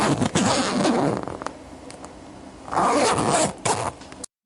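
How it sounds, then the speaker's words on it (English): Zipper pulled in two rasping runs, close and loud, with brief scrapes and rustles between them. "That is a zipper."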